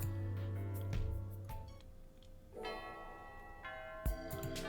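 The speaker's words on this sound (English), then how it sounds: "The morning bell rang as Natsuhiko and Salu entered the classroom." A morning school bell rings out in a video game, struck tones sounding over sustained musical background, with a fresh loud strike near the end.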